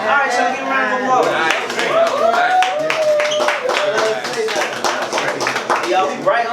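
Audience applause for a performer at a live writing session, a dense stretch of clapping hands filling the room at steady loudness from start to finish, with voices mixed into the crowd noise.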